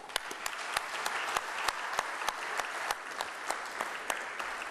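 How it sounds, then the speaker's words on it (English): Audience applause at a morning live business event in Mesa, sustained and fairly close, with steady dense clapping and occasional louder claps standing out. "Nice round of applause for Crescent Crown."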